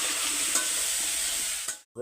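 Turmeric, salt and chilli fry in a pan with a steady, close sizzle under continuous stirring, ending with a brief thump and a short pause.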